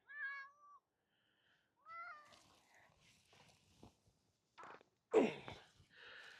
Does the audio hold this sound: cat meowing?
yes